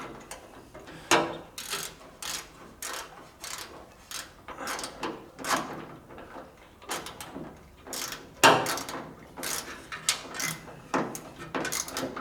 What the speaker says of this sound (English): so actually tighten the damn thing